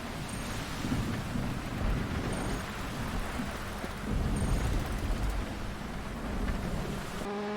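Rain and thunder in the rally racing game WRC 8 form a steady wash of rain noise, with deep thundery rumbles swelling a few times. Fairly faint, with no voices.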